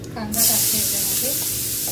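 Chopped onion hitting hot oil already seasoned with bay leaf, cinnamon, black cardamom and asafoetida, a sudden loud close sizzle that swells and then holds as a steady frying hiss, with faint low voices under it.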